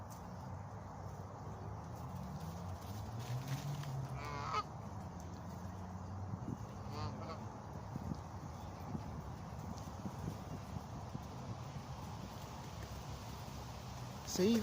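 Geese honking while feeding on tossed ramen noodles outdoors, a few sporadic honks fairly close over low ambient noise, with a person talking throughout.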